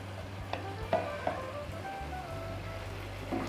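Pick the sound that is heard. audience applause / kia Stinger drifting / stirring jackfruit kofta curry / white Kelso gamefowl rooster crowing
stirring jackfruit kofta curry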